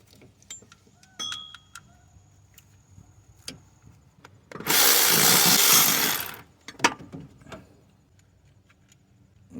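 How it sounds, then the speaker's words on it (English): A cordless 1/4-inch ratchet runs in one loud, steady burst of about two seconds while a water pump is being replaced on a 3.5-litre Toyota Sienna, Highlander or Lexus, with quieter tool clicks and knocks before and after. "this one I don't think I'm gonna be able to get it with my ratchet, my cordless ratchet"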